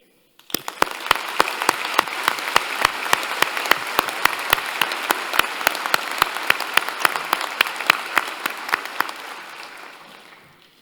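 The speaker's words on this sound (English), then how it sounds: "Let us take a moment with loud applause to celebrate you" Loud applause at a university graduation ceremony, a large crowd clapping steadily for about ten seconds with sharp individual claps standing out, then tapering off.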